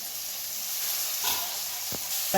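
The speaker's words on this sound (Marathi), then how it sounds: "तेलात कांदा चांगला भाजला" Onion and chilli frying in hot oil, giving a steady close sizzling hiss with a few brief stirring scrapes near the end; no voices.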